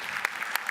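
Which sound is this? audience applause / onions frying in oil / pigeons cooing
audience applause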